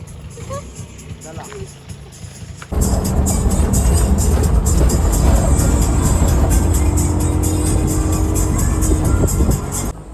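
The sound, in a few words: auto rickshaw ride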